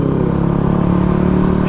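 A motorcycle passing close by with a steady, throbbing engine drone that holds level for under two seconds.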